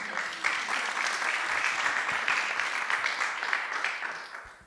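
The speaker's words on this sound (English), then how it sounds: "And one more round of applause for Antoine." Sustained audience applause for a speaker at a Startup Grind Montreal event, a steady crowd of many hands clapping for several seconds before tapering off.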